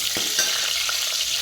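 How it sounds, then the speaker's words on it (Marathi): Garlic and cumin tempering sizzling in hot oil, a steady close crackling hiss with a few soft stirring knocks, no voices. "याच्यामध्ये मी परत लसणाची फोडणी करते"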